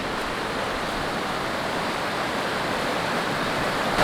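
A river rushes steadily beside the Emperor Falls campground tent pads on the Berg Lake Trail, a dense, unbroken roar of white water close by.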